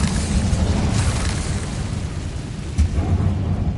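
Incendio fire spell cast in the Hogwarts Legacy video game, a loud whooshing burst of flame with a sharp boom near the end, set over heavy rumbling game noise.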